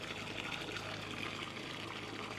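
Water sprays steadily onto vegetable garden plants in a continuous, hissing gush that stays close and even from start to end.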